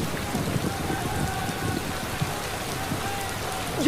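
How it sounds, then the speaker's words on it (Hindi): Rain falls in a steady, even hiss with scattered drops pattering on surfaces nearby, moderate in loudness and continuous throughout. "बारिश आ गई।"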